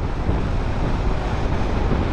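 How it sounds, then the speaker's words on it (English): Steady, loud wind buffeting the microphone on a motorcycle ride over Beartooth Pass, a constant low roar and rumble with no break for the whole stretch. "Getting the wind again. Well, it's windy."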